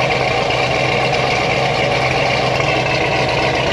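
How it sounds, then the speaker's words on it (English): A V8 engine fitted with a smooth idle cam runs steadily at idle, a continuous loud rumble with an even low throb and no talking. "It's a smooth idle cam."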